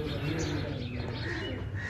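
Pigeons coo and murmur against a constant, dense background hum in a village, with no clear pauses.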